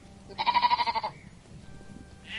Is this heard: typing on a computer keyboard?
no